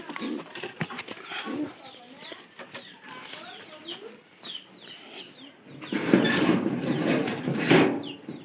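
Pigeons calling with repeated close cooing and throaty calls amid other bird sounds, growing louder and denser in the last few seconds, with some talking in the background.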